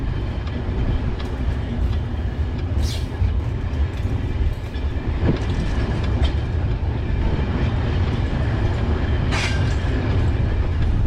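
A freight train crossing the Mauritanian desert makes a loud, continuous rumble with a rhythmic clatter of its wheels and occasional sharp metallic squeals.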